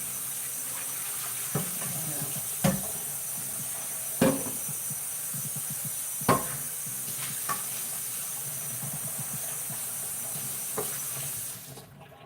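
Bacon frying in a pan gives a steady, fairly quiet sizzle, broken by a few sharp clicks and knocks of a utensil against the pan, with no talk.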